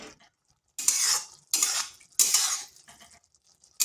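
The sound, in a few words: stir-frying okra masala with sugar in a pan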